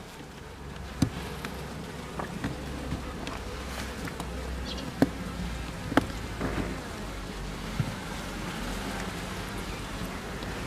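Honeybees buzz around an open hive during an inspection, a soft, constant drone of many insects with a few faint clicks and knocks from handling the frames, no talking.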